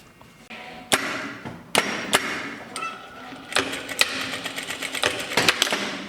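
A sewing machine stitches a V shape on a shirt placket in short, uneven runs broken by sharp clacks and thumps from handling the fabric and machine, close and fairly loud.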